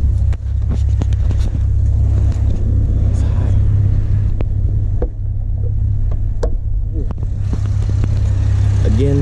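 A modded fifth-generation Chevrolet Camaro engine idles with a deep, loud rumble and a few throttle blips, with someone talking over it.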